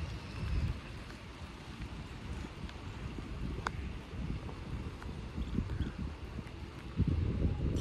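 Light rain and gusting wind outdoors at a farmhouse with horse stables make a soft, continuous rustling hiss with low buffeting rumbles that swell near the start and the end, and no voices.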